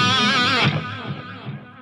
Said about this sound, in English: And then when we add the echo,